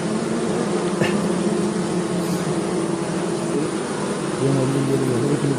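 A swarm of stingless bees being collected, a dense continuous buzzing drone held close and steady, with a brief louder whine partway through.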